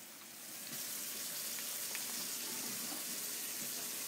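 Water pouring out of a pasta pot with broccoli into a sink, a steady rushing hiss that swells in after a quiet start and then runs on evenly, with no voices.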